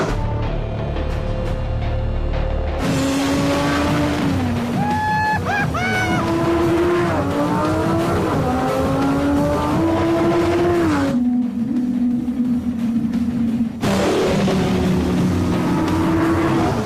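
A Lamborghini Sesto Elemento accelerates hard, its engine wailing loudly up through several gears in rising sweeps with brief breaks between shifts, close and dominant.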